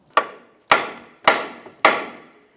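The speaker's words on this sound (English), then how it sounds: "Now I'm just using my hammer to tap on this lower control arm." Four sharp metallic hammer taps on the lower control arm of a 2008-2017 Mitsubishi Lancer, evenly spaced about half a second apart, close and loud with short ringing decays.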